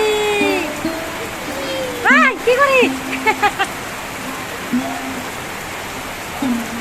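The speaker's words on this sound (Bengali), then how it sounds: "পুরা বৃষ্টি হচ্ছে পুরা বৃষ্টি বৃষ্টি বৃষ্টি" Steady, dense rain hisses throughout while people talk and call out nearby.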